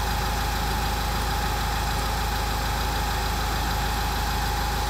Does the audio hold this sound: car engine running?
yes